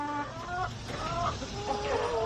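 Chickens kept in a backyard coop cluck in rising and falling calls, close and continuous, over steady ambient noise.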